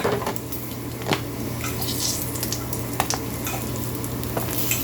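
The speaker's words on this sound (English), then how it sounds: "we got a nice hot pan with bacon fat" Bacon sizzles in a hot pan of bacon fat, a loud dense crackling hiss with sharp pops and spits scattered throughout, close up and steady.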